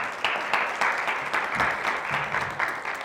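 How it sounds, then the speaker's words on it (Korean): An audience at a Korean election candidates' forum in Gangwon claps warmly, a fairly quiet but full round of many hands with loose rhythmic pulses running steadily for several seconds and no voices on top. "뜨거운 박수 한번 부탁드리겠습니다."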